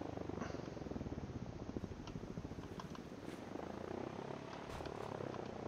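A cat in the video game Sunkenland purrs steadily and loudly in a continuous rumbling drone that lasts throughout, with no talking over it.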